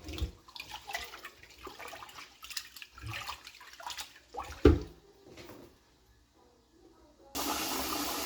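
Water sloshes and splashes in a bowl of rice being rinsed, with intermittent swirling and one sharp knock, then a steady rush like running water takes over at the end.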